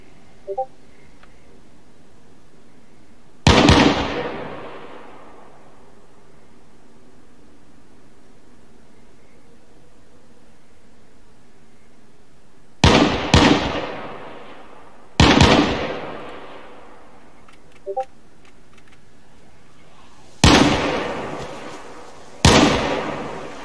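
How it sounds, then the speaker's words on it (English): Loud gunshots in the video game DayZ, five or six sharp booming blasts spaced several seconds apart, each with a long decaying echo tail over a quiet background. "That's like the loudest gun possible."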